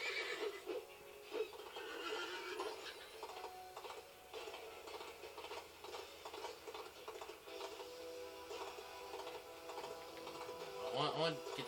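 A horse neighing in the Disney Infinity video game's Wild West setting, a faint whinny with clip-clop hooves and ticking game sounds under a player's talk.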